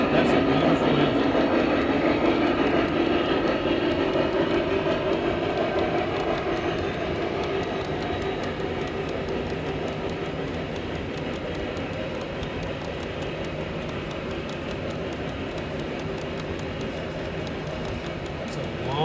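Continuous rolling rumble of a long model train running along a large club layout track, steady and moderately loud, with faint voices in the background.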